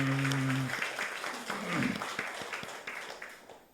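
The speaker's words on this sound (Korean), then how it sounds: "우리 살아계신 하나님께 감사의 박수를 올려드리겠습니다" A church congregation claps in thanks during a Korean Sunday worship service, a dense spread of hands filling the room, fading gradually while a low sustained tone cuts off near the start.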